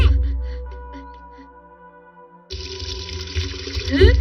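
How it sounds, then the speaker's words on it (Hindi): Cartoon hand-washing at a fountain: after a fading tone, a steady stream of running water starts abruptly and splashes continuously, loud and close. "आज जाकर फाउंटेन में धो लेंगे।"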